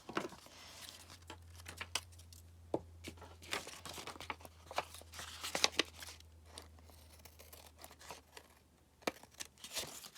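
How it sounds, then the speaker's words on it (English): Scissors snipping through paper coated in wet glue during papercraft pocket-making, giving a run of soft crinkly cuts and short crisp snips, fairly quiet and close, with a steady low hum underneath. "Let's see if I can get some of them in here at least, and just cut some of that off."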